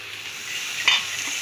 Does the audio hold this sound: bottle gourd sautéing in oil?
yes